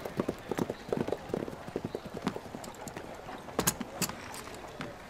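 Horse hooves clip-clop in a period Chinese historical drama, a brisk irregular series of sharp clops, fairly close, with a faint whinny-like sound and light background noise.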